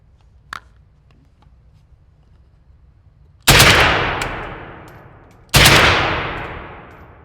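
An AK-20 rifle fires at an outdoor range. Two loud, sharp reports about two seconds apart each ring out into a long, fading echo, with a faint click before them.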